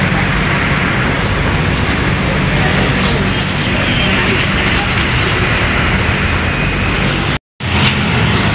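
Loud, constant roar of a motorized tricycle riding through traffic in the Philippines, broadband engine and road noise with wind buffeting close to the microphone, briefly cutting out near the end.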